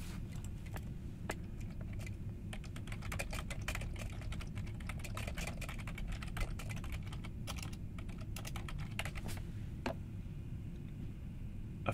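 Typing on a computer keyboard at a desk, a steady run of quick, close key clicks for about twelve seconds over a low background hum, with no talking.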